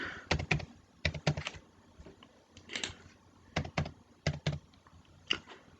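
Username typed on a computer keyboard during an Ubuntu install in VMware Workstation Pro: clusters of crisp, close key clacks in quick bursts separated by short pauses.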